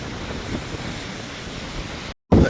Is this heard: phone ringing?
no